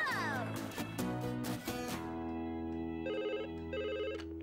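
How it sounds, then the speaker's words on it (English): A cartoon telephone rings in repeated electronic trills after some brief earlier voices and noises, the rings clear and evenly spaced against a quiet background. "I'll call Wendy and tell her you're on your way"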